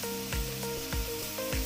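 Lean 93% ground beef frying and being broken up in a pan for tacos, a steady close sizzle broken by a few regular scraping knocks of a utensil against the pan, with no talking.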